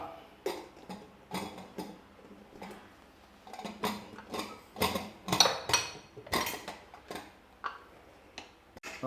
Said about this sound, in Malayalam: നമുക്ക് കുക്കറിൽ തന്നെ വേവിച്ചെടുക്കണം കുക്കർ മൂടാട്ടാ